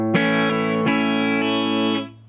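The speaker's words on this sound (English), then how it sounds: "It's a very subtle chorus." An electric guitar through a pedalboard with a subtle chorus effect rings out in three sustained, strummed chords, each blooming and ringing on before fading at the end, with no talking.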